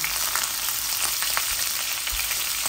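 Frozen garlic cloves, ten to twelve of them, sizzle in hot oil with cumin seeds, bay leaf and a dried chili, making a loud, steady crackling fry with small pops scattered through.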